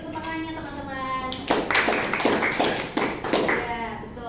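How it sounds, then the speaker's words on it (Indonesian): Applause in a classroom, a short burst of scattered hand clapping and taps that rises after a moment of talk and continues for a few seconds at moderate level, with a voice speaking before it. "Beri tepuk tangannya teman-teman."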